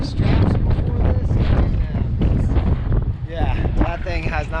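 Heavy wind gusts pound continuously against an RV parked at Mount Carrier, a loud, rough rumbling roar with people talking underneath it.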